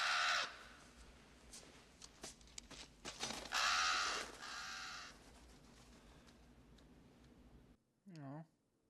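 A crow in a prison film scene gives a harsh caw near the end, after a stretch of loud film audio and people talking.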